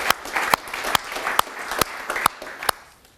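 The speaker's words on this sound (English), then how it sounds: "I would like to give them a round of applause." Applause from an audience at the closing of a biopolymer innovation awards event, a steady wash of clapping with a few sharp louder claps standing out, tapering off near the end.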